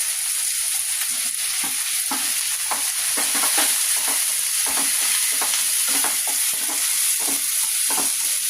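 Capsicum sizzles and fries in a hot pan of chilli chicken with coriander leaves, a steady loud hiss broken by repeated scraping stirs, close up with no voices.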